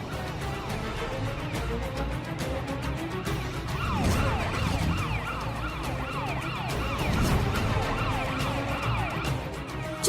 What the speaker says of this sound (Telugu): పోలీస్ జీప్ సైరన్ వినగానే వాడెలా పారిపోయాడో